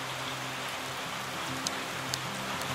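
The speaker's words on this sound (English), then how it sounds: "about every day it rains here" Steady rain falls outdoors at a rural sawmill site, a dense even hiss with a few louder drops, moderately loud and continuous with no voices.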